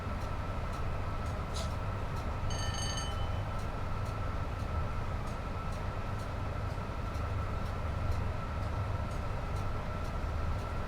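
A train on the West Coast Main Line between Crewe and Preston in Train Sim World 6 runs at speed, giving a steady loud rumble with faint rhythmic clicks and a brief tonal chime partway through.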